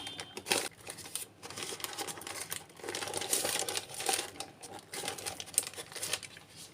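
Paper crinkling and rustling as it is wrapped around a sweet biscuit roll being shaped for chilling, with close, irregular crackles and soft tearing-like scrapes throughout.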